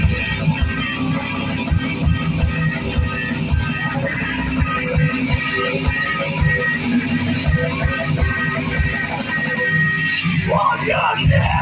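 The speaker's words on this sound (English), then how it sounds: "Scream louder! Scream louder!" A crowd at a beat contest yelling and screaming continuously over loud pulsing music, a dense roar that swells near the end.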